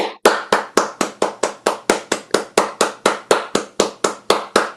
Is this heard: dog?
no